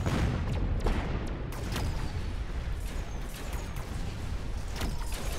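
Sustained gunfire from mech units in a Mechabellum battle, rapid overlapping bursts and sharp cracks layered over a constant rumbling din of combat, with no voices heard.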